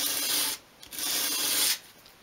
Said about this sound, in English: So hold it onto the sandpaper at a 45 degree angle. Just very gently sweep it towards you